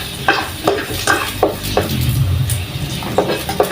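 Garlic sautéing in a pan, a loud close sizzle broken by repeated clinks and scrapes of a utensil stirring against the metal, with no voices.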